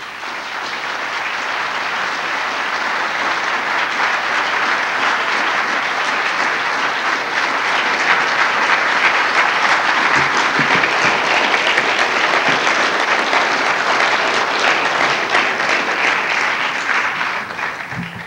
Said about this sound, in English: Please join me with robust applause in welcoming Professor Robert Bellah.